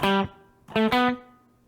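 Short distorted electric guitar phrase from a song: a plucked note, a pause, then two quick notes that ring out and decay, played alone.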